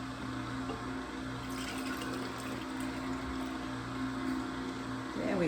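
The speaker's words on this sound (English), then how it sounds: "Let's see if we can pour this in here without making a mess." Sunny Delight juice being poured from a jug into a container, a steady liquid stream running continuously up close for several seconds, with a slight surge near the end.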